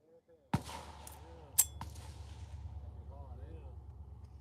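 A single sharp rifle gunshot cracks loudly at close range outdoors, then rings off into a decaying rumble, followed by a second fainter crack and a low lingering tail.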